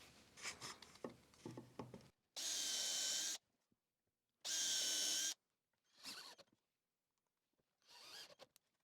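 A power drill drives screws into a wooden garden nesting box: two loud, steady bursts of whirring about a second each, between shorter rattling and handling noises, close and with no talk.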